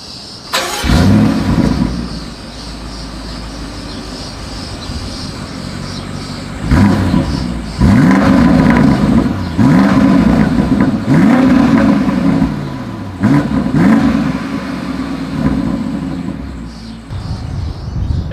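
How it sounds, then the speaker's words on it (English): A BMW X7 M50i starts with a loud burst from the exhaust, settles to an idle, then is revved repeatedly in several sharp rising and falling blips before easing back down. "As always, here is that exhaust clip."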